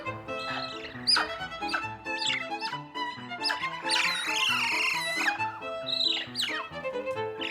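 Woolly monkeys in an enclosure chirp and trill excitedly over a bounty of grapes, a dense, continuous chorus of high squeaky calls and warbling trills from several animals at close range.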